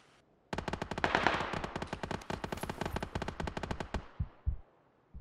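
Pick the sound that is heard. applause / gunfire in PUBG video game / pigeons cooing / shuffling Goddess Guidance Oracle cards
gunfire in PUBG video game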